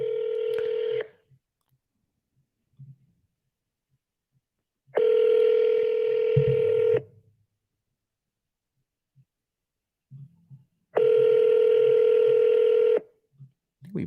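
An outgoing phone call rings out, with three long, steady ringback tones about two seconds each, separated by quiet gaps, and faint clicks in between.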